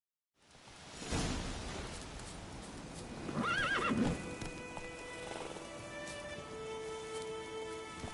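Geralt's horse Roach in The Witcher 3 video game, hooves clip-clopping at a gallop with a loud neigh rising midway, over a constant bed of rain-like ambience.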